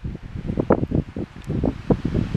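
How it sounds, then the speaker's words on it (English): Gusty wind buffets an exposed wilderness spot in Dolly Sods. Low rumbling bursts roar against the microphone in uneven pulses, loud and close, with no talking. "Man, is it exposed to the wind."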